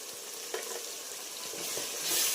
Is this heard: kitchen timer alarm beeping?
no